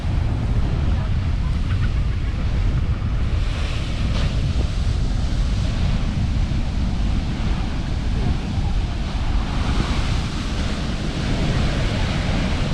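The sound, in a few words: wind at the beach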